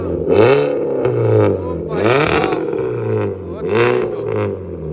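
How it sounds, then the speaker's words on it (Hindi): A car engine fitted with an aftermarket exhaust silencer revs three times in rising and falling bursts, loud and close with a rasping exhaust note, while someone talks underneath. "एक बार ही रेव हो जाए थोड़ा सा।"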